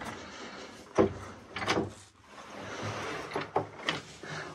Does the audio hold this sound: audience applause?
no